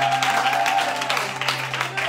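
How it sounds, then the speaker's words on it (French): A church congregation applauds and cheers in praise, a loud, steady wash of many hands clapping and crowd noise. It carries on without a break for a couple of seconds. "On acclame le Seigneur."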